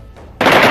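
A sharp, loud AK-47 burst fired skyward by Taliban fighters in celebration, starting abruptly after a brief low murmur and continuing as dense, crackling automatic fire.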